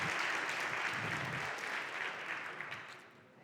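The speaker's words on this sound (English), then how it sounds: "So give them a round of applause," Applause from a tech conference audience, a steady wash of clapping that fades slowly over a few seconds.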